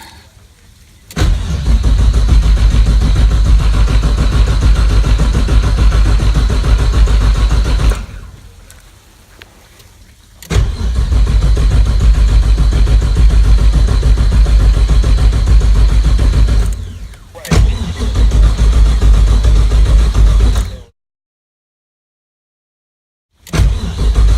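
An LS1 V8 swapped into a Nissan 240SX S14 drift car cranks over on the starter without firing, in three long, loud, steady runs split by short pauses and then silence.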